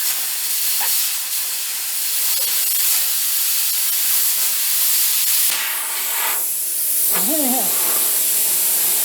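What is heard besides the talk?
Bestarc BTC500D plasma cutter cutting metal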